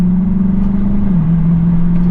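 Lexus IS F driving, a loud, steady engine drone heard from inside the cabin with a constant low hum and road rumble, no voices.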